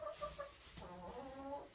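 A hen clucks in a backyard chicken yard, a few soft close calls at first, then a longer run of quiet murmuring clucks, faint and alone without talk.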